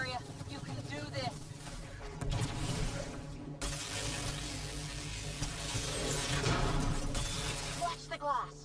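Glass shattering in Mass Effect Andromeda amid combat, heard as bursts of bright crashing and tinkling over a low sustained drone, with brief voice fragments and quieter stretches between.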